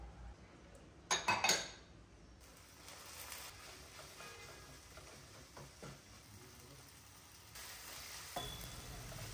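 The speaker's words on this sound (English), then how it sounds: "I will cover and cook the tomatoes until they are soft" Tomatoes sizzle steadily in a pan on a home stove, a soft continuous frying hiss, with a brief clatter of cookware near the start.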